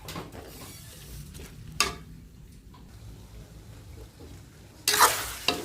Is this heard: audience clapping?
no